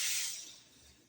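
Water poured into a hot iron skillet inside an oven while sourdough bread bakes sets off one brief, loud burst of steam hissing that quickly fades away.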